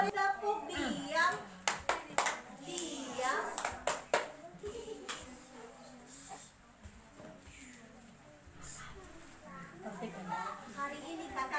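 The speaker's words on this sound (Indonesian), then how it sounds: "Semua beri tepuk diam." Children perform a rhythmic 'tepuk diam' clapping routine at a kids' worship service, sharp hand claps in quick patterned bursts, with children's voices chattering between and after.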